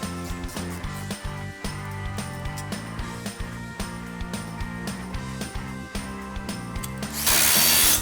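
A ratchet clicks rapidly in quick repeated strokes while tightening the strut top mounting bolts on a 2007–2013 Ford Expedition, close and crisp, ending in a burst of harsher noise.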